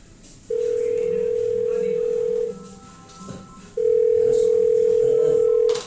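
A telephone dial tone sounds loud and close as a steady unbroken hum, lasting about two seconds, breaking off briefly, then returning for another two seconds, with faint background noise and voices between.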